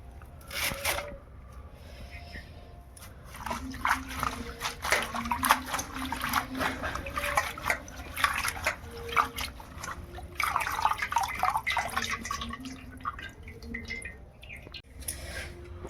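Coriander stems rinsed by hand in water in a home kitchen, with irregular splashes, drips and wet squishing sounds in quick clusters, close and moderately loud.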